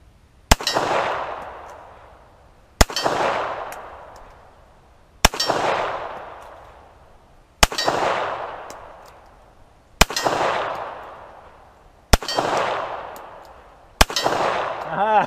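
Handgun shots ringing off steel targets at an outdoor range: seven sharp, evenly spaced reports, each followed by a bright metallic clang that decays slowly, loud and close with no talking between shots.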